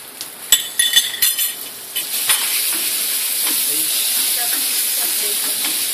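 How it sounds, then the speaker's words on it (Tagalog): Onion, garlic and diced bacon sautéing in a pan, opening with a few stirring clinks and scrapes, then settling into a steady, close sizzling hiss with no talk. "Pag na-saute na yung dalawa, onion, garlic, add the bacon."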